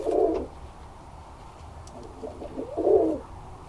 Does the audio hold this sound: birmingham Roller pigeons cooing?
yes